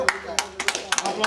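About six loose, irregular hand claps ring out close by in a small room, with people speaking around them.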